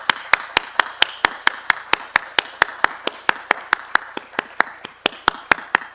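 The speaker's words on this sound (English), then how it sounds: "I want to just do a quick round of applause" During a community council meeting, a single pair of hands claps in a quick, even rhythm of sharp close slaps, about four per second, with a quiet room behind them.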